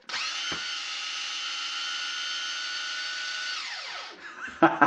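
A Milwaukee 1/2 inch impact wrench runs loud and steady for about four seconds, its rapid hammering holding one even pitch before it winds down and stops, followed by a few brief clunks.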